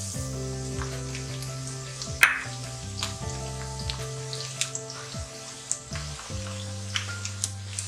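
Chopped medium onion frying in a pan with garam masala just added, a steady sizzle running throughout with occasional stirring clinks and scrapes, close and fairly quiet, no one talking.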